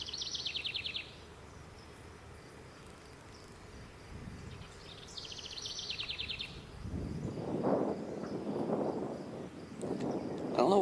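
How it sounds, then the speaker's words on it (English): A bird calls near a mountain stream in the Utah mountains in early spring: two short, bright trilled bursts a few seconds apart over a soft steady rush, then a person talks close by. "Oh no, it's a bird."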